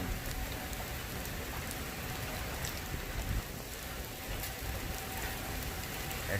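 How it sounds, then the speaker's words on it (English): Steady rain from Tropical Storm Cristobal pours down in a dense, continuous hiss with scattered drips on surfaces, unbroken and even throughout, with no voices. "it is still raining"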